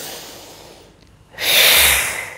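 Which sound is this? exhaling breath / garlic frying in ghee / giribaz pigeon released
exhaling breath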